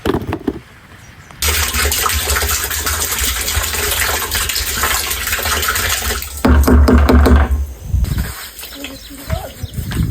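Liquid fertilizer gushes into a sprayer tank in a farm plot, a strong continuous splashing pour that briefly stops, then resumes more heavily before fading, with a short quiet gap at the start.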